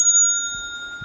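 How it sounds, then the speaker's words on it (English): A single bell strike used as a timing signal in a national debate competition. It is a bright, clear ding that rings on and fades slowly, with faint room noise behind it. "I'll be ringing a bell, something sounding like this."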